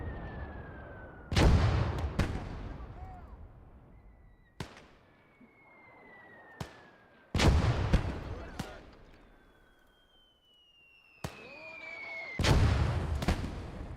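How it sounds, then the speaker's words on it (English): Mortar shells and gunfire thunder in the World War II strategy game Gates of Hell, with several heavy booming impacts, sharp cracks and whistling incoming rounds spaced across the scene, some near and loud, others more distant. "That mortar is super dangerous."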